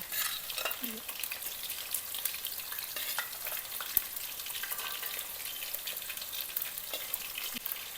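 Food frying in a pan in a home kitchen, a soft continuous sizzle and crackle with a few small stirring taps, fairly quiet and close, with no talk.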